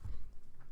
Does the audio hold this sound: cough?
yes